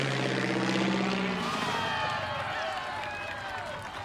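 Cartoon propeller airplane drones past on a solo transatlantic flight, a loud buzzing engine note that sweeps and fades as it goes by, with a crowd cheering underneath.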